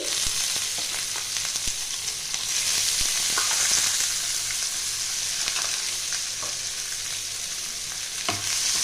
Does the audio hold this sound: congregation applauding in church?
no